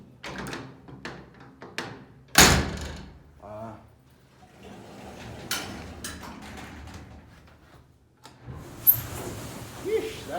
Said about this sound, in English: Big old freight elevator door.